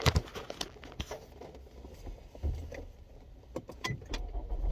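A car is driven on a short solo trip to the store, heard from inside the cabin as a low, quiet engine rumble with scattered clicks, rustles and thumps on top.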